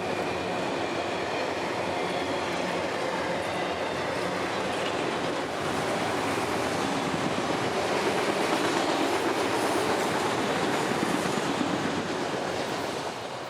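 A freight train hauling autoracks passes on the S Line in Central Florida, a loud, steady rush of rolling wheels and rail noise with faint clickety-clack that holds close and constant throughout, building slightly toward the end.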